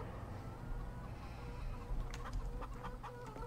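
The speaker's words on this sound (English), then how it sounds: "100 chickens." Chickens cluck in Farming Simulator 17, a flock of about 100 birds at a farm coop. The clucks are scattered and repeated, rising over a steady low farm ambience with no speech.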